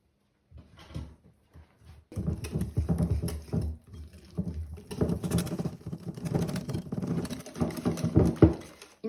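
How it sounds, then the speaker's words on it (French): Cheesecake batter with vanilla extract being stirred by hand in a bowl; close, busy tapping and scraping runs in uneven bursts after a few soft knocks at the start, with no talking. "Et je vais venir mélanger le tout."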